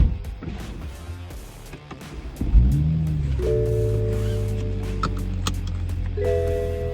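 A Toyota Supra's engine idles and rises into a steady, loud hum with droning low tones, alone without talk, after a quieter start.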